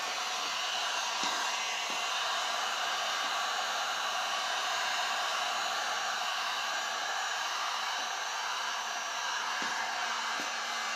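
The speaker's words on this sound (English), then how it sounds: "Heat gun." A heat gun blows hot air over craft work on a 4x4 coaster or 6x6 embellished tile, a steady, unbroken hiss and whoosh of airflow running for the full length, close and constant, with a couple of faint clicks.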